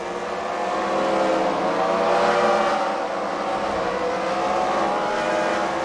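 Loud roaring race car engine at a fight night demolition-style track event, a continuous droning run with the pitch rising and falling as the car moves around the track, close and alone.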